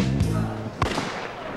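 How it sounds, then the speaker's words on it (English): Two loud blasts from a bartender's shotgun in a Wild West showdown game, sharp cracks roughly half a second apart, close and mixed in with people talking. "If the bartender fires off his shotgun,"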